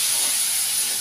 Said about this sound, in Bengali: এটা গরম জল দিয়ে দিলাম।